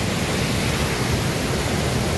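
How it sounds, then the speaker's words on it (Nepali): Heavy rain pours onto an umbrella on open ground at Pokhara, a dense, continuous, loud hiss of falling water with no break and no voices. "अब पानी परिरहेछ, के गर्ने हो थाहा छैन।"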